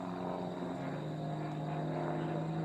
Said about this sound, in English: That airplane is moving real fast.